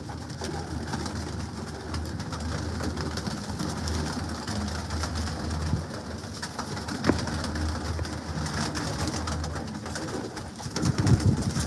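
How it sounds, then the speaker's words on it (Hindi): Pigeons for sale at a breeder's home coo steadily throughout, a low continuous murmur of several birds close by with no talk. "ये सारे कबूतर फॉर सेल हैं।"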